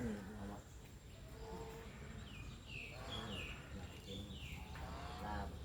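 Cattle at a Thai zoo lowing several times, with moderately near moos rising and falling over a busy background of bird chirps and faint people's voices.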